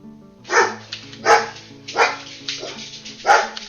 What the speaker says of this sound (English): Quiet, quiet, quiet, dogs.